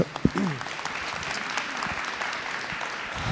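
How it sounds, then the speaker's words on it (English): Sustained audience applause after a talk on sleep and health, a dense, even wash of clapping from a room full of people, with a brief voice at the very start. "Having heard this, round of applause."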